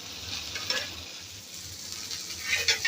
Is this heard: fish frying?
yes